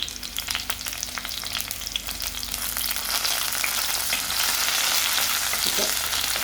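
Ginger, green chilies and curry leaves crackle and sizzle in a hot pan with oil, a dense popping fry that builds slightly louder over the seconds, close-up with stirring and no talk.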